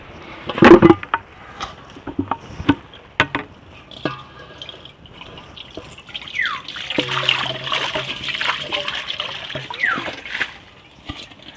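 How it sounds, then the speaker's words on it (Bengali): Water runs from a village time-controlled tap into a bucket, starting with a few knocks and splashes, then settling into a steady, rising fill that gurgles and trickles nearby, with no talk. "আগে আমি বালতিতে জল ধরে নেব"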